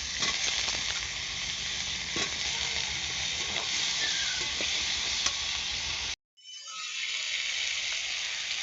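Potatoes and tomato frying with spice paste in a pan for a snakehead fish curry, a steady bright sizzle that cuts out briefly, then hisses back in, close and continuous, no talking.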